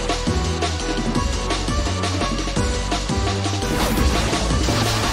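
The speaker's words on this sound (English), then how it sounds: "A smashing blow." A smashing hit lands in the Pokémon Battle Revolution video game, with short crashing impacts repeating over steady, busy battle music and no talking.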